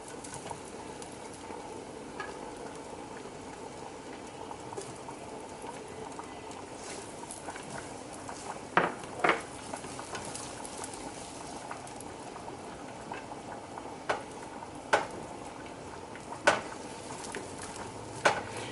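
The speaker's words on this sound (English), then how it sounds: "you want to cook this for about 1 to 2 minutes until your butter melts completely" Butter with minced garlic sizzles softly in a pan, a low, steady crackle that runs throughout with scattered small pops and clicks.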